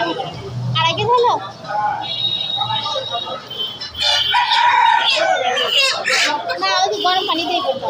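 Chickens at a market cluck and a rooster crows close by, with people talking loudly over the birds throughout.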